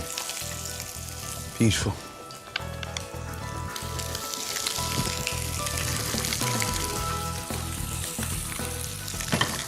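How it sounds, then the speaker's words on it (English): Fish coated with peanuts and chili sears in a hot pan with a loud, continuous close sizzle and occasional pops and scraping, while a voice speaks briefly. "we need to sear it in and get it nice and crisp"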